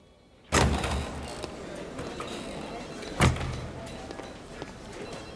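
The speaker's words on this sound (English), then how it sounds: "Cannot shut the door." A door shut firmly, one sharp thump followed a few seconds later by a second solid knock, both close, with a steady room hum and faint movement in between.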